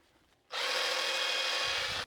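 A BMW 1 Series engine valve spun in a loose hand drill while being cleaned with a Scotch pad, a steady bright whirring grind that starts abruptly and runs continuously for about a second and a half, close and loud, then stops.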